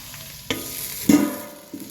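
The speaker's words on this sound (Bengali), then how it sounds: "আলুটা সর্ষের তেলের মধ্যে দেওয়ার পর নাড়াচাড়া করে নিয়েছি" Potatoes sizzle in hot mustard oil for a beetroot cutlet recipe while a utensil stirs them, with two sharp scraping stir strokes over a steady close frying hiss.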